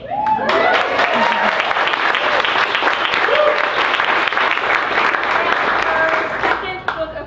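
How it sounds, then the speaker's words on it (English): Audience at a poetry book launch in Malvern Books applauding the poet, loud sustained clapping from a room full of people with voices mixed in, easing off at the end. "I want to have a round of applause for Miss Marcella DeFria"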